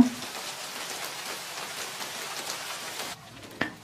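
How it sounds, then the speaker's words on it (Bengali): Heavy rain falls outside a small flat in Dhaka as a steady, dense patter, then drops to a quieter hush near the end, with a single sharp knock just after. "বাইরে প্রচন্ড বৃষ্টি হচ্ছিল।"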